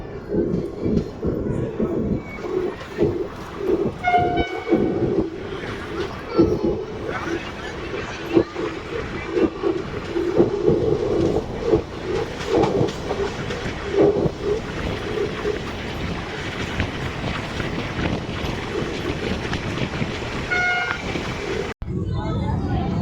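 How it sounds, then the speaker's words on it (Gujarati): A passenger train's low rumble and rhythmic rattling carry on steadily from inside a carriage as it departs the small Vavdi station in Gujarat, with a babble of passengers' voices throughout. "વાવડીથી ટ્રેન નીકળી ગઈ છે"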